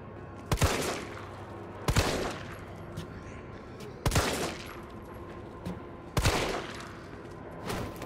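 Gunshots in a Resident Evil video game demo: four sharp, loud shots spaced about two seconds apart, each with a short decaying tail, over a low ambient game background.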